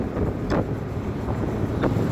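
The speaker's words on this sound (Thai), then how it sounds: "ลมก็แรงแรงเลยเนาะ สายลมเข้าตัวสับอย่างแรงเลย เพราะว่าลมมันแรง" Steady, heavy wind rushes and buffets against the microphone in a continuous low roar, with no voices.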